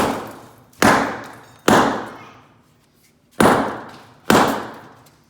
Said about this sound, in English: It's really just breaking up the tile and shooting it everywhere, so a sledgehammer's not going to work.